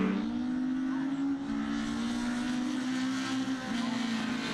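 A rallycross racing car in a BMW Mini and S1600 championship round at Pembrey accelerates hard, its engine note climbing in a steady, strained whine with a gear-change dip near the end, moderately distant.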